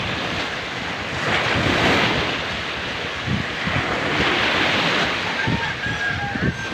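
Ocean waves wash in near the shore of an island beach, a steady broad surf roar with swells rising and falling, buffeted by wind noise on the microphone.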